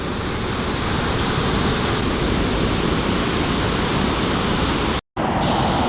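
A powerful, high waterfall in the Kali Tiger Reserve forest, Karnataka, roars continuously, a broad loud rushing wash of water close by, briefly cut off near the end before resuming.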